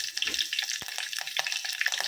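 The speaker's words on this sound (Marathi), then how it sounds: "फोडणी ॲड करायची जिरा" Cumin seeds and curry leaves crackle and sizzle in hot oil for a tempering in a kadhai, a close, busy hiss dotted with sharp pops and spatters, with no voices.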